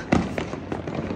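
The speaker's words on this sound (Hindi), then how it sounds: "गाइस ये वाला पटाखा है ना जो, इसका कुछ नहीं पता, कुछ भी हो सकता है इसका।" A Diwali firecracker goes off with a sharp, loud bang near the start, followed by a few weaker crackling pops through the rest of the short burst.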